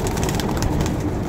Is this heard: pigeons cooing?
yes